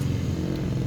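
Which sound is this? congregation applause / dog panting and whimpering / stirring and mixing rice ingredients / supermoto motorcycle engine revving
supermoto motorcycle engine revving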